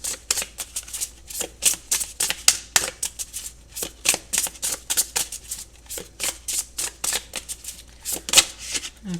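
Tarot cards shuffled and handled at close range, a dense run of crisp riffling flicks and soft slaps in quick irregular bursts, with no talking over them.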